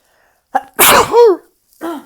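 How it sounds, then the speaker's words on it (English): A single loud sneeze bursts out after a short inhaled build-up, followed by a brief vocal sound, close to the listener. "I feel like I need to sneeze, and there it was."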